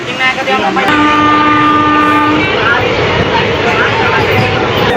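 A train horn sounds loudly for a couple of seconds over steady rumbling rail noise, with people talking throughout.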